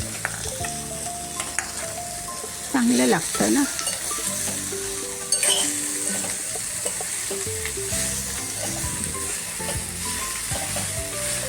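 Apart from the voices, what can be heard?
coriander added to hot tempering, sizzling in pan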